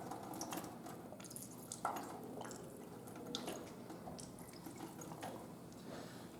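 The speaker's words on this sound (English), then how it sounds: "So we clean our probe with distilled water and make sure we really get in on the top and the bottom and thoroughly clean" A lab probe is rinsed with distilled water, giving soft irregular drips and trickles of liquid against faint background noise, quiet and close, with a few small splashes and no talking.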